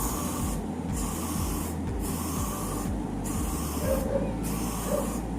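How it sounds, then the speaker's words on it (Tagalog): Disinfectant spray misted inside a car cabin, heard as a steady broadband hiss broken by several brief pauses between bursts, close and moderately loud with no talking. "Ang gagawin nyo is i-spray nyo lang yung disinfectant spray dito."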